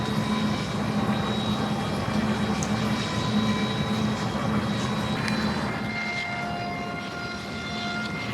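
Alstom electric locomotive powering up as traction is increased, a loud steady drone with sustained tonal whine and hum, continuous for several seconds and easing slightly near the end, with no speech.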